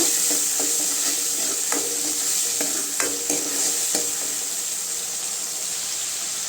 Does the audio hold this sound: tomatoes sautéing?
yes